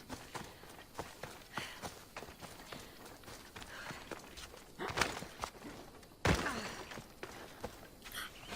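Running footsteps of a character in the video game Assassin's Creed Odyssey, a steady rhythmic patter of quick steps with a couple of louder thumps, no talk over it.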